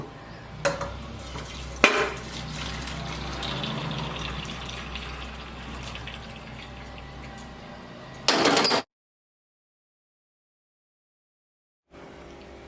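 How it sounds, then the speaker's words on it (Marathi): Water is drained from pressure-cooked soya chunks, a steady pouring and splashing rush with a few sharp clanks, ending in a loud burst before sudden silence. "आपण याच्यातलं आता आहे ना सगळं पाणी काढून घेऊ"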